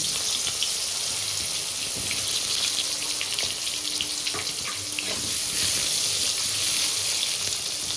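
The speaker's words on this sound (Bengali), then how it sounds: "বেগুন কেটে রেখেছিলাম টুকরো টুকরো করে, সেটা ভেজে নেবো" Pieces of eggplant deep-fry in hot oil. A dense, even hiss of bubbling oil holds steady for the whole stretch, loud and close, with faint crackles and no voices.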